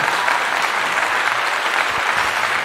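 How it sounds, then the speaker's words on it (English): Dense, steady applause rings out for a guest on an online talk show, a loud, even wash of clapping with no voices over it. "let me give you a clap"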